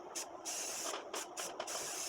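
Rust protection spray hisses in several short bursts onto the sharpened edge of a lawn mower blade, close and fairly loud, with brief pauses between sprays.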